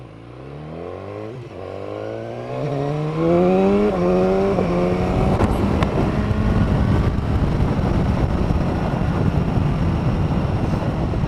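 A 1000cc four-cylinder motorcycle revs up through the gears, its engine tone climbing in several rising steps, then gives way to loud, steady wind rush at speed with no talking.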